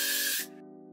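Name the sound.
hairspray spraying onto hair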